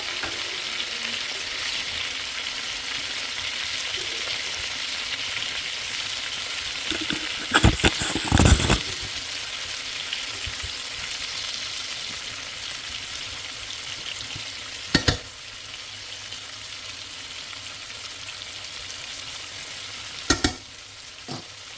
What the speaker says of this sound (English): Now I'm adding one large onion.